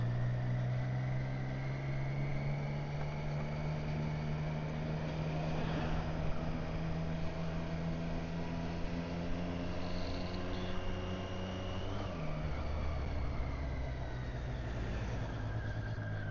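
A motorbike engine runs steadily with a deep, rich drone, its pitch easing down partway through before settling again; no voices.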